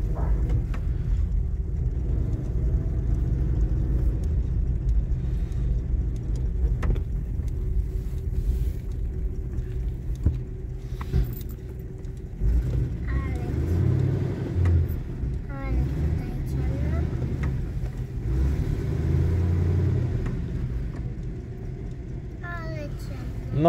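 A 1941 Buick Special Sedanet, never restored, idles steadily with a low, continuous engine rumble heard from inside the car, while people talk in Polish over it.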